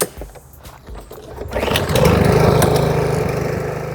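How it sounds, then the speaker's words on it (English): A lawn mower with half of a Motorola Razr phone fitted as its blade, lowered toward the ground, starts with a few knocks and then runs loud and steady up close, a constant rough engine drone. "if you attach a Razr phone to the bottom of a lawnmower"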